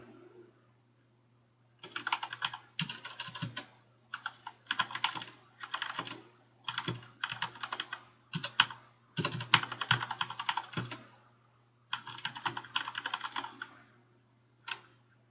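Rapid typing on a computer keyboard in bursts of clattering keystrokes separated by short pauses, close and fairly quiet over a steady low electrical hum.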